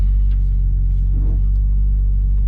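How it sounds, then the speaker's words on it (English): A lifted 1994 Jeep Grand Cherokee on a test drive, heard from inside as a loud, steady low engine and road rumble with no distinct revving. "let's give it a little test drive"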